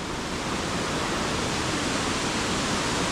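The Seetha Gangula stream on the Nallathanni–Hatton route up Sri Pada rushes down in full flow, a dense, constant roar of water close by with no breaks and no voices.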